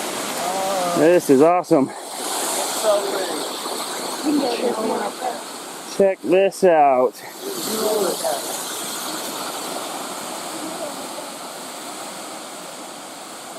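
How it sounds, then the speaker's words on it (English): A mountain waterfall beside a hiking trail roars in a continuous broad rush, with someone speaking excitedly over it at times. "Waterfall right here"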